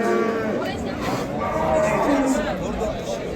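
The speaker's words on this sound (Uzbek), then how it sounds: "Sigir." Cattle at a livestock market in Namangan, with a cow's low moo rising out of steady crowd chatter and talk from traders close by.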